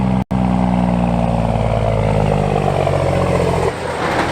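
An old turbo diesel truck towing a toy hauler, its engine droning loud and rattly from inside the cab while driving, a continuous rough rumble with a brief dropout early and a shift in tone near the end.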